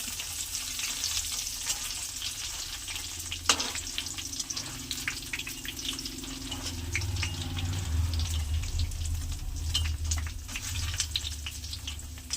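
Ribbon pakodi made from moong dal dough frying in hot oil, a steady close sizzle and bubbling with occasional stirring clinks and one sharp knock, no voices.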